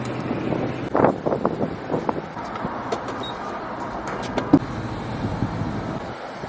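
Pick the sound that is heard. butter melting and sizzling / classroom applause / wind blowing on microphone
wind blowing on microphone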